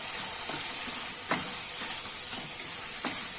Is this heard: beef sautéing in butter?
yes